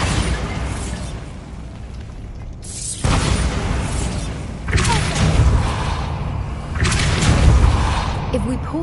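Bombarda spells in Hogwarts Legacy blow up one after another. Three big booming blasts arrive a couple of seconds apart, each with a sharp onset and a long rumbling decay, loud and close over game ambience.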